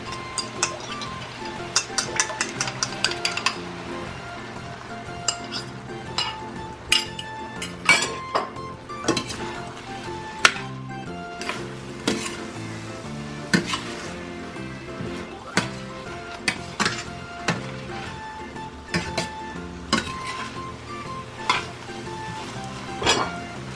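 Eggs go into a pan of tuna and bitter gourd sarciado, bringing soft sizzling with clinks and taps of a utensil against the pan and irregular stirring scrapes, close by with no talk.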